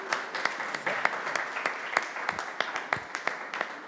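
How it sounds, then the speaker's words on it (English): Applause from an audience greeting Councilmember Todd Gloria at a Comic-Con announcement, a dense, steady wash of many hands clapping that carries on evenly for several seconds without a voice over it. "Please give a round of applause for Councilmember Todd Gloria"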